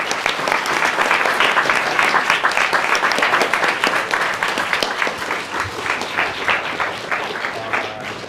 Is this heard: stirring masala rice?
no